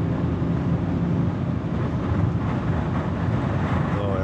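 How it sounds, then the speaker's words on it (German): Steady, loud wind noise rushes over a BMW X3 M40d diesel SUV at 200 km/h, a dense, unbroken roar with no talk. "So, jetzt hört ihr die Windgeräusche eben halt."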